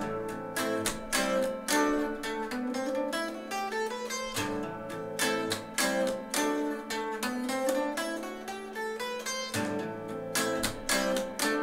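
A slow guitar riff in the Dorian mode, plucked notes ringing in a steady, unhurried pattern that repeats several times with sustained tones, played alone and close with no talking.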